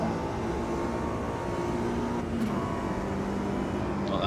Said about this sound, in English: now we've got some cars coming up